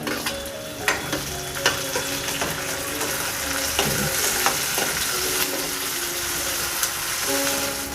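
Chopped onions fry in hot oil for a Konkani bangda (mackerel) fish curry, a loud, continuous sizzle broken by repeated scraping clinks of a spoon stirring the pan, close up, with no voices.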